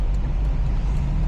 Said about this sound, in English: I'm gonna go drift right now.